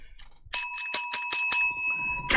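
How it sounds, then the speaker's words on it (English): A bright notification bell rings five or six times in quick succession, clear and close, then fades into silence. "And turn on the notification bell so you can hear a bell just"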